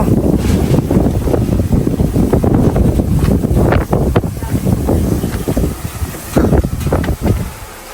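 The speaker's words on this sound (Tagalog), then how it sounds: "Grabe ang lakas ng hangin dito." Strong wind in Bataan, Philippines, roaring and buffeting the microphone continuously, with heavy low rumbling gusts throughout.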